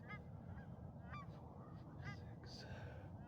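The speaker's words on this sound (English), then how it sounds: "Oh, there's some ducks already here, some geese." Geese honk repeatedly from a distance, several scattered calls over a steady background rumble.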